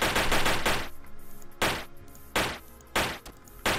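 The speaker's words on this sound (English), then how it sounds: "Got myself an SMG." Submachine gun fire in a modded Minecraft game: several loud, broadband automatic bursts of rapid shots, separated by brief pauses and fading tails, with no talking.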